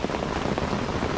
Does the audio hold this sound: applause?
no